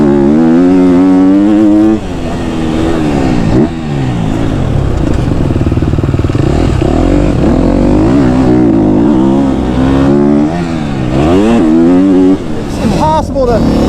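A KTM 250 SXF dirt bike revs hard and loud nearby, its pitch climbing and falling through repeated throttle bursts and gear changes, with a voice speaking over the engine.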